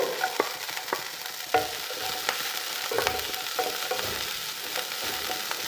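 Onion halves and chopped green chilies sauté in a hot pan as a soya chunk and egg pepper roast is prepared, giving a steady close sizzle with repeated scraping clicks of a spoon stirring, no talk.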